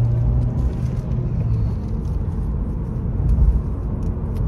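A manual-transmission Honda Civic Si's engine hums and rumbles steadily from inside the cabin during a shift into second gear, with a low continuous drone and a slight swell near the end.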